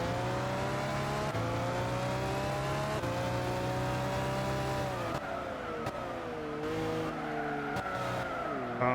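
A racing car in the video game Gran Turismo 6 drones steadily at high revs with shifting engine pitch and a short tire squeal, loud and alone without talk.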